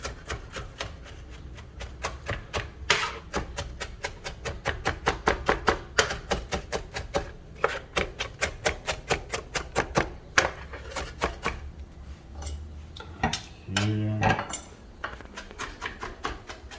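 Chef's knife chopping onion on a cutting board for a conchiglione with sausage ragu, a rapid, even run of crisp close taps that keeps going, then slows and breaks off near the end.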